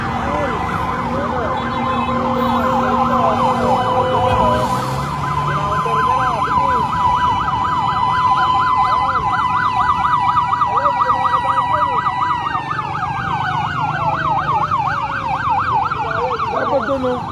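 Fire truck sirens wail and yelp together at a fire on Luzon Avenue in Quezon City, loud and close, with several overlapping siren tones over street and engine noise.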